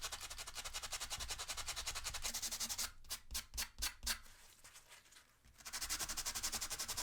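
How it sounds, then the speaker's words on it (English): Sandpaper scrubs rust off a metal piece from a Sega Dreamcast in fast, even back-and-forth strokes, close and steady, with a short pause broken by a few separate rubs before the rhythm resumes. "I am just going to try to sand this down and get rid of some of the rust."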